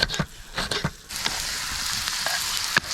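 Saç kavurma with green peppers sizzles and fries on a hot pan, a steady crackling hiss broken by a few sharp stirring clatters near the start.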